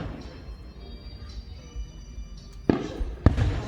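Fireworks going off, a steady low rumble building to two sharp, loud bursts near the end, the second the strongest.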